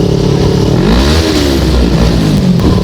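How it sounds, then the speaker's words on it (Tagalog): A car engine revs hard in a rev-matched downshift on a road near Tagaytay, the pitch dipping then sweeping up in a loud, close throttle blip over continuous engine drone. "It's called rev match."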